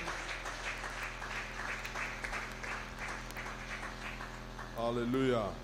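A church congregation applauds and acclaims the Lord, with steady sustained clapping filling the room and a voice rising over it near the end.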